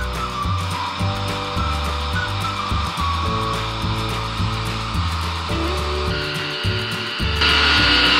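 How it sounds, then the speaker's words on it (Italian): A stand mixer runs while kneading a high-hydration pan pizza dough after water, oil and salt have been added, giving a steady motor whir with a repeating rhythmic thump from the hook working the dough, close and continuous. "Facciamo andare la planetaria."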